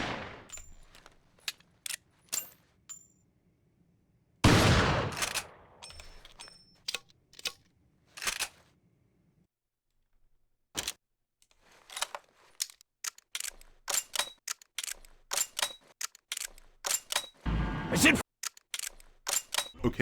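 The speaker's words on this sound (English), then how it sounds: "the reload animations in this game are just so clean" Resident Evil 4 gun handling: crisp mechanical clicks and clacks of reload animations punctuated by several sharp, loud gunshot bursts, separated by stretches of near silence.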